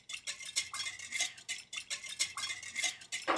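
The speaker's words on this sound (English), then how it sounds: "Let's whisk this together." A whisk stirs a salted vinaigrette in a bowl, giving quick, rhythmic scraping strokes that repeat in short bursts, close and fairly quiet, with no voices.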